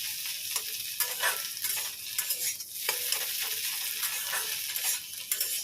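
Chicken pieces fry in a pan until reddish, with a bright continuous sizzle and frequent quick stirring scrapes, close and moderately loud.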